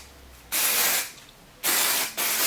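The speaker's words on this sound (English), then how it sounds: "I'm going to spray it with some dry shampoo" Three bursts of dry shampoo aerosol spray hiss up close onto hair, each a steady rushing spritz with brief pauses between.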